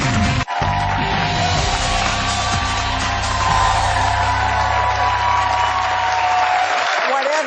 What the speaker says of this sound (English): we hear a smattering of applause from our enormous audience